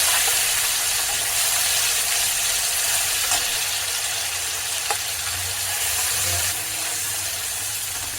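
Onion and cashew paste frying in hot oil in a pan, a continuous close sizzle with soft scraping stirs and a couple of faint clicks, no voices.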